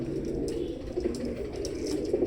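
A teddy pigeon cooing softly in a loft: low, rolling coos repeating close by over a faint background hum.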